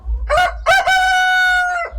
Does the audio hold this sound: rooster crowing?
yes